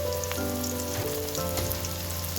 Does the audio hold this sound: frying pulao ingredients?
yes